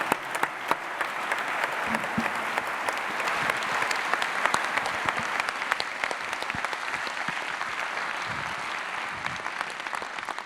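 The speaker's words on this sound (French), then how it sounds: "Je vous propose à nouveau de les applaudir." Sustained applause from an audience fills a university opening ceremony hall, dense and steady throughout, with occasional louder individual claps standing out.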